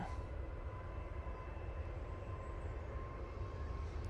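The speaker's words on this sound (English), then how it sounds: "Decent landing from the Ryanair there." A Ryanair airliner landing at Manchester Airport, heard as a steady, distant broadband roar of jet engines and rushing air that holds at an even level throughout, with no voices.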